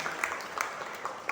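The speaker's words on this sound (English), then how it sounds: "Let's welcome our speaker, Shraddha Sarvapesari, with a round of applause." A short burst of applause from an audience welcoming a speaker at a talk, clapping steady and moderately loud throughout.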